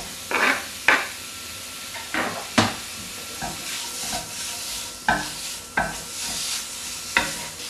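Beef stir-fried in a wok, a hot hiss under repeated sharp scraping strokes of a spatula, recurring about every second, close and fairly loud.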